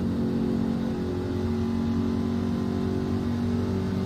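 A steady car engine hums and drones close by, a low constant motor sound with no talking.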